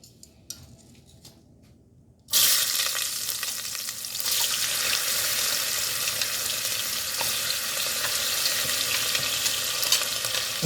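Large chunks of vegetables hit a hot pot used for braising short ribs, and a loud, bright sizzle bursts in after a quiet start and keeps crackling steadily with faint stirring clinks.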